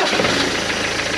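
A van engine just fitted with a new starter motor turns over and runs, a steady close mechanical rumble with a slightly knocking texture throughout the short span, no voices present.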